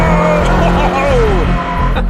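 Lancia Delta Integrale with rear-biased all-wheel drive under hard driving on a track, engine droning loudly and steadily throughout with a rising whine, while a voice talks over it.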